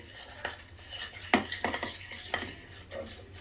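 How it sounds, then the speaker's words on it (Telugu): Gongura chutney being mixed with a spoon, giving soft, irregular scraping and clinking against a dish, close and quiet, with a few sharper taps and no talking. "ఇప్పుడు ఈ రెండింటిని బాగా మిక్స్ చేసుకొని ఇప్పుడు తాలింపు వేసేసుకోవాలి"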